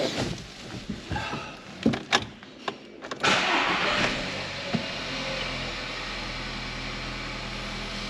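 A cold, not yet warmed-up car engine with a fourth-cylinder ignition misfire fault: a few clicks and clunks, then it cranks and catches about three seconds in, settling into a steady running hum nearby.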